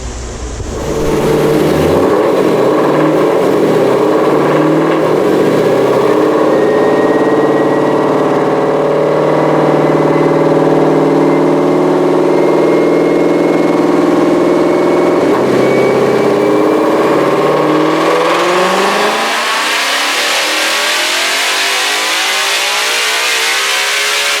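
A 2020 Ford Shelby GT500 with a JLT intake on a stock supercharger and pulley roars loudly through a dyno pull past 8,000 RPM, the pitch climbing steadily before dropping into a falling coast-down near the end.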